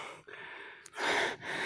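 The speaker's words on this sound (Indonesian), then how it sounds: "Meski dengan napas ngos-ngosan" Heavy, breathy panting after a climb to a rock summit on Pulau Batun, Belitung, comes close to the ear as several quick gasping breaths, with the last exhalations louder and rougher.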